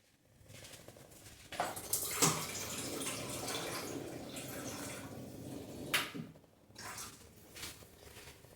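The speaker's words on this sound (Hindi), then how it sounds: "तो इसमें हम 1 कप पानी मिला देते हैं।" A cup of water poured into sweet corn kheer in a pot, a soft splashing pour lasting several seconds with a few small clinks, fairly quiet and close.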